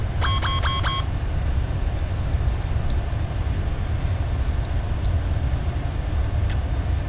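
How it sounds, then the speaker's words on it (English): A short cockpit warning whistle in Microsoft Flight Simulator 2020 calling for the spoilers to be retracted: a quick series of four bright tonal pulses, then a steady engine drone continuing alone. "That little whistle there was telling me that I need to bring in my spoilers."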